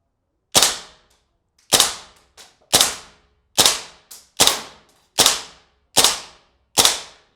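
A gas airsoft gun fires eight sharp, loud, close single shots through a chronograph, each a crisp crack with a quick decay and about a second between shots, plus a couple of softer clicks and no talking.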